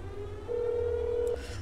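A phone rings in a horror video game, one steady electronic tone of about a second that stops abruptly, with a brief chime at the end, over a quiet low room hum.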